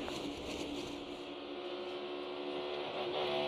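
A NASCAR Next Gen race car engine on track, loud and close, with a sustained engine roar that shifts and eases as the driver lifts off the throttle through the corner.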